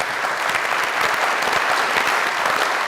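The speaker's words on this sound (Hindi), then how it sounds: "ओए आप सबकी ढेर सारी तालियों में" Steady, dense studio audience applause fills the set of the comedy show Mazaq Raat, a continuous loud roar of many hands clapping with no gaps.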